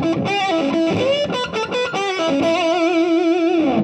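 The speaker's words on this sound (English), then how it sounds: "with any distortion pedal, you kind of got to crank it and see what happens" A distorted electric guitar, played through a distortion pedal, plays a short, gritty riff, ending on a sustained, buzzing note that rings out loud and close.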